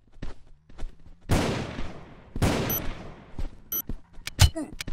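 Gunfire in the video game Broke Protocol: two loud, sharp shots with echoing tails about a second apart, then lighter rapid clicks and thuds, with footsteps and a voice speaking underneath.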